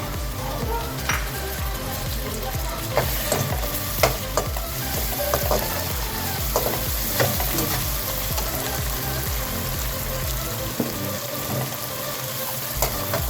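A steady, close sizzle of onions and tomatoes frying, with occasional scrapes and taps of a spoon stirring the pan.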